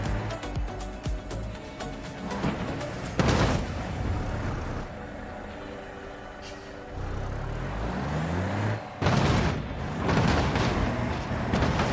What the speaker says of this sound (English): You cannot fit a T-Series through a grinder.